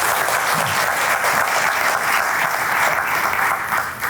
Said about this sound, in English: I'd like you all to give yourselves a round of applause.